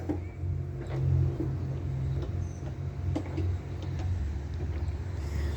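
A Toro TimeCutter 34-inch zero-turn riding mower runs steadily, its engine giving a continuous low rumble with faint wind noise and no speech.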